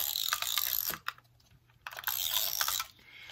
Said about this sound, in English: And this, I'm just going to go ahead and use my Elmer's tape runner.